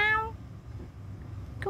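A pet cat in Gedera, Israel, lets out a clear, close meow at the start, followed by quiet room sound and then a second short meow at the very end.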